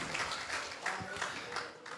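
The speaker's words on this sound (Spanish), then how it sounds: "Démosle un fuerte aplauso al Señor en esta mañana" A church congregation applauds during a Sunday morning service, a dense, steady wash of clapping running throughout with a voice faintly audible beneath it.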